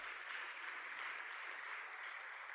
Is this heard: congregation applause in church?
yes